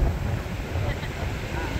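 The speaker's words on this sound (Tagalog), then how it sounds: "Parang panay ng hangin." Wind gusting at Bagasbas beach buffets the microphone in a steady, rumbling roar that fills the whole moment with no clear pauses.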